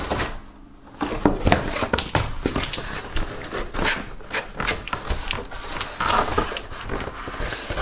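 Cardboard from a Samy Deluxe SaMTV Unplugged box set is handled while a box of vinyl records is unpacked: close, irregular taps, rustles and flap clatters come in quick clusters, without speech.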